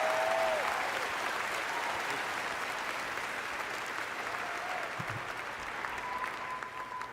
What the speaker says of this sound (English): let's give a big round of applause to these two guys